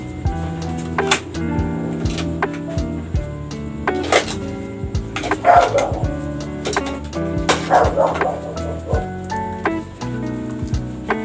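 A dog barks intermittently in the background of an indoor home setting, with several sharp, moderately distant barks spread across the stretch, along with clicks and small handling knocks.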